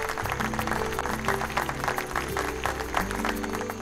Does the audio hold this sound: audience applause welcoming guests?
yes